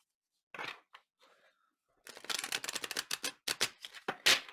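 Tarot cards are riffled and shuffled close up, a short flutter first, then a quick run of crisp, snapping shuffles.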